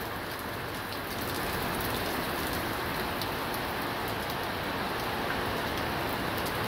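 Heavy rain pours steadily during a violent thunderstorm with hail expected, a dense, constant roar of drops hitting surfaces close by, with no thunder and no voices.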